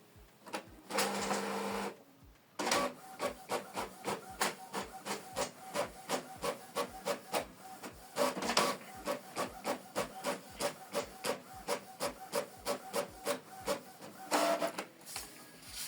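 A Canon Pixma TS7550i inkjet printer runs a print job on a single black-and-white page, giving a brief whir, a pause, then a long run of rapid, evenly spaced mechanical clicks and carriage ticks, close and fairly loud with no talking.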